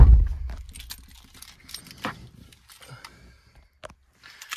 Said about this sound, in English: It's just two keys with remote locking.